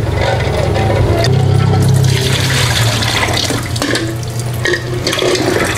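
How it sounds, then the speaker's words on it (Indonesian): Salted eggs rinsed under running water give a loud, steady splashing tap stream with occasional knocks and clinks of the eggs being handled. "Telurnya mau kita bilas dulu"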